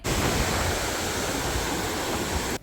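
Sea waves wash steadily on a beach in the early morning, a continuous broadband roar of surf that stays loud and even throughout, with no voices.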